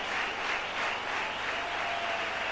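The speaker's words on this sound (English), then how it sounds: "You hear the applause, Jeff?" A cricket stadium crowd at a day match in Mumbai applauds in a steady, broad wash of clapping that holds loud and even throughout.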